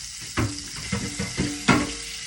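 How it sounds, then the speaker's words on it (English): A pan is rinsed under a running tap with water splashing and gurgling in several separate bursts, close by, with a hollow metallic ring between splashes. "Try to rinse my pan out a little bit here."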